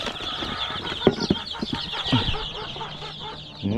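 Farm chickens and chicks cluck and cheep close by in overlapping bursts, with busy, irregular bird calls throughout.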